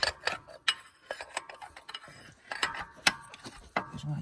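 A nut is screwed onto a part of an MTZ tractor, making a quick run of small metallic clicks and ratchet-like ticks in an uneven rhythm. The sound is close-up and is the only thing heard.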